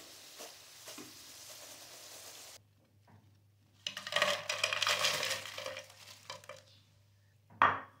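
French fries sizzle in hot oil in a home kitchen, a soft crackling hiss that pauses and then returns louder, with metallic scraping and a clink as the fries are stirred and lifted out.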